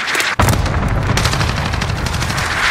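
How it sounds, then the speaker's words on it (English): Cluster strike explosions from the video game Call of Duty: Modern Warfare: a dense, continuous barrage of loud overlapping blasts and crackling bursts, with one sharp heavy impact early on. "Allied cluster strike inbound."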